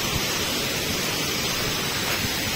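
The Mangardora waterfall at Mangardora Park in Nabarangpur pours in a steady, broad rushing roar, continuous and fairly distant, with no voices.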